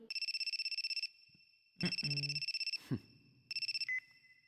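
A telephone in an anime scene rings with a rapid electronic trill in several bursts, loud and clear, broken by short gaps where a person speaks briefly.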